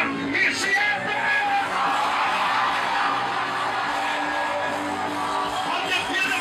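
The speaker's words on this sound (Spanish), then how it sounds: "Cuando cuente siete, hagan un grito" A church congregation in Haina shouts together on cue, making a dense, loud, continuous wash of crowd yelling and whooping that lasts the whole stretch without a break.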